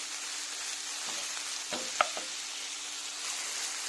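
Ground meat fries in a hot pan for a stuffed bread recipe, giving a soft continuous sizzle with a few brief scrapes and clicks from stirring, close by and fairly quiet.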